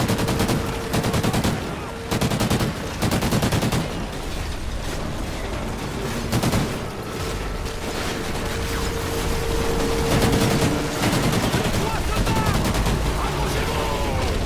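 Gunfire in the video game Call of Duty Ghosts, with rapid automatic bursts and mechanical clatter coming in loud, dense volleys across a busy battle mix.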